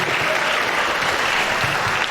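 Audience applause at a university estate management department alumni reunion in Nigeria, steady, moderately loud clapping from a sizable crowd throughout, with no talking.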